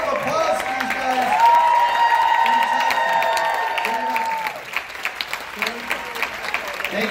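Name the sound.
audience applause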